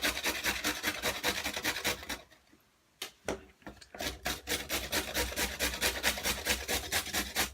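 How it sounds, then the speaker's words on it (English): Vegetables such as carrots being rubbed against a kitchen grater for coleslaw, a close, steady rasping in quick repeated strokes, pausing briefly mid-way before the scraping rhythm resumes. "just press the vegetable against the grater till you get right to the end."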